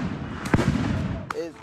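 Fireworks going off at night during July 4th in Minneapolis, a couple of sharp pops and bangs over a noisy outdoor street background, with voices mixed in.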